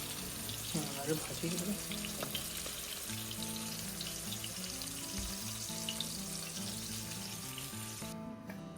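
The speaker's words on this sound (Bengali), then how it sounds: "এদিকে রুই মাছ ভাজা চলছে" Rohu fish fries in a pan with a steady, continuous sizzle, joined by running water and faint clinks of a spoon or dish in a busy home kitchen. No one speaks.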